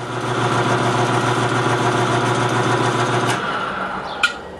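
A lathe runs steadily during work on a Honda PA50 moped part, a constant mechanical hum and whir that stops abruptly near the end, followed by a brief faint clink.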